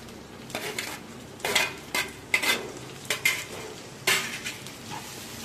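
Chopped tomatoes go into a pan with onion and ground garlic and are stirred, giving a soft frying hiss broken by about eight distinct scraping and clinking strokes of a spoon against the pan.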